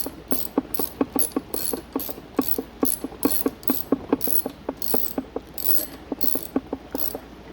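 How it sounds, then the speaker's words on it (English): A ratchet wrench tightens bolts on a cruiser bicycle, its pawl clicking in quick, regular runs of strokes, close and crisp, with brief pauses between sets and no talking. "So now what I'm going to do is tighten everything down."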